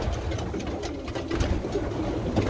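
Racing pigeons coo softly amid a low, busy rumble, with faint fluttering and shuffling close by.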